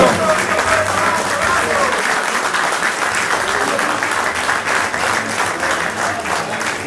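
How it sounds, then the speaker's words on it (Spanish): A rock-anniversary crowd in Villa Ángela applauds Lucas Velázquez, the rock influencer, with loud, steady clapping that fills the whole stretch, mixed with cheers and a voice over it. "Fuerte aplauso, Luquita, el reconocimiento."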